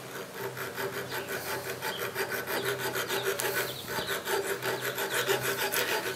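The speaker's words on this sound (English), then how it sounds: "file the ring into my barrel" Steady rhythmic rasping of a metal file drawn back and forth across a metal airsoft gun barrel, cutting a ring into it, close and continuous with no talking.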